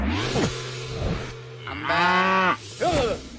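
A bull bellows in several deep, drawn-out moos with rising and falling pitch, close and loud, separated by short pauses.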